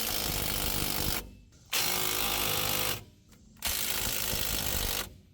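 An impact wrench tightens wheel bearing bolts on a Ford F150 in three close, loud rattling bursts of rapid hammering, each lasting about a second and separated by short pauses.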